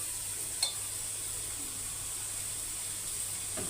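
Green chillies fry and are stirred in a pan, giving a faint, steady sizzling hiss throughout with a brief scrape of the utensil near the start.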